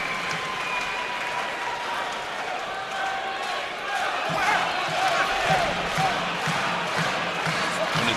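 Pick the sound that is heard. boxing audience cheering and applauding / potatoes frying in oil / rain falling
boxing audience cheering and applauding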